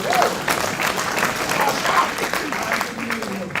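Hands clapping at the opening ceremony of a Pan African socialism conference, a sustained hall-wide applause with some voices mixed in, fairly loud and continuous.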